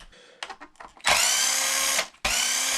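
A power tool whirs loudly in two sustained bursts while undoing bolts on the servo mount of an RC car. Softer clicks and handling noises come first, and a brief pause separates the two runs.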